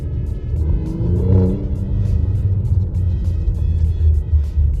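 An Alfa Romeo car's engine rumbles steadily at close range, with a swell of revving in the low end around the second mark before settling back into a continuous throaty drone.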